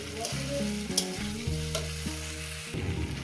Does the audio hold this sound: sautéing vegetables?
yes